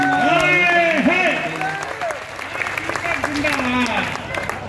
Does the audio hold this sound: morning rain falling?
no